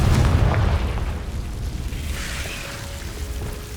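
A Confringo fire spell going off in the Hogwarts Legacy video game, a booming burst that rumbles and fades into a low, lingering roar with no talk over it.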